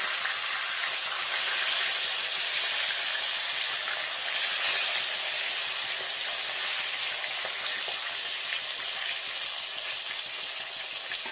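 Pieces of rohu fish frying in oil in a pan over low heat, giving a continuous, even sizzling hiss that carries on unbroken with no talking.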